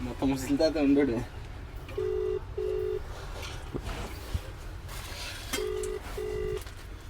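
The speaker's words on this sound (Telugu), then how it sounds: "అదే తాతకు ఫోన్ చేస్తున్నా" A phone ringback tone sounds in two pairs of short beeps, with a voice talking at the start and faint background noise between rings.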